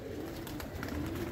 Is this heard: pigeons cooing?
yes